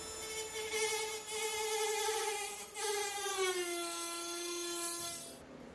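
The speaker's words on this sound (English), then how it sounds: "Time to cut out that spot and fix the area that ripped." A power cutting tool whines steadily as it cuts out a rusted spot of a car's driver-side rocker panel, a high tonal buzz that sags in pitch under load, dips briefly, then cuts off at the end.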